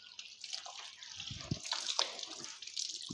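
Tap water runs and splashes over hands during wudu washing, a soft, uneven trickle close by with occasional louder splashes.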